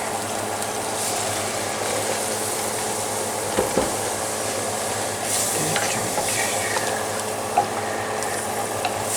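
Gravy thinned with milk for stuff on a shingle, stirred in a Stargazer cast iron skillet, gives a steady bubbling sizzle with occasional scrapes and clinks of the spoon against the iron, close and fairly loud.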